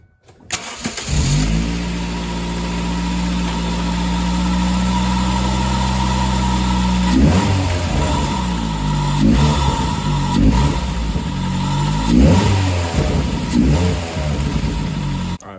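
A car engine fitted with a new intake and exhaust cranks and starts, settles into a loud steady idle, then is blipped through several sharp revs, heard up close with no talking.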